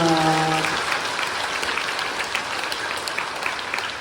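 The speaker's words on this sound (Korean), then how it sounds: "크게 박수해 주시기 바랍니다" A church congregation breaks into loud, continuous applause, dense rapid clapping that follows a brief sung or spoken tone and carries on steadily to the end.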